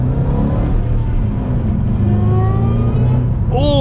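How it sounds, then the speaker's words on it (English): Ford Mustang GT500 engine revving hard and loud up close, with a rising supercharger whine layered over the deep roar, climbing in pitch toward the end. "Oh man, you get the supercharger whine too?"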